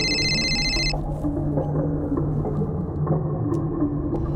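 A phone rings with a bright electronic tone for about a second, then stops, leaving a low rumbling hum like the inside of a moving car.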